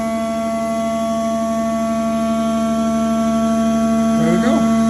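A CNC machine with a Siemens 810d control machines a part, giving a steady, loud mechanical hum with constant tonal whine throughout, and a brief voice-like sound near the end.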